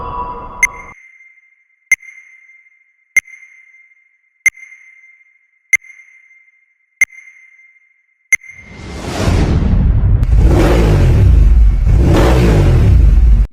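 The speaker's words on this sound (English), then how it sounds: "The rev of the engine." A series of evenly spaced sonar-like pings leads into a loud, close engine revving in several rising surges, with a rushing whoosh over a deep roar.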